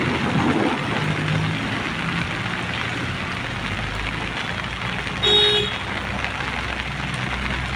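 Dairy tanker trucks roll along a wet road on a rainy day near the Banas Dairy, tyres hissing and engines rumbling, with one short horn honk partway through.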